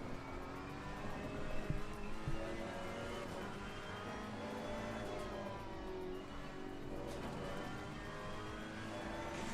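GT race cars in Assetto Corsa Competizione, 2020 GT World Challenge pack, roar steadily and loudly throughout, with engine revs rising and falling and a couple of sharper swells as cars accelerate.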